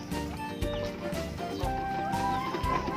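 Around forty egg-laying hens in a small, not-yet-renovated coop give soft, continuous clucks and murmurs close up over a constant low background drone.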